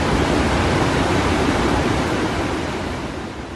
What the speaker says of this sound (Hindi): डैम से गिरता मटमैला पानी देखने में तो काफी खूबसूरत लग रहा है